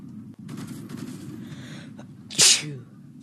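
A single sharp human sneeze bursts out near the end, loud and close, after a stretch of quiet background hiss.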